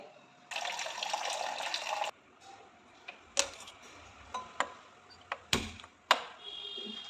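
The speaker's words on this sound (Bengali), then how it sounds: "গরম জলটা ঢেলে নিচ্ছি" Hot water pours into a cup for black coffee made with Nescafé Classic, a steady close stream lasting over a second, followed by a few light clinks and taps of the cup or spoon.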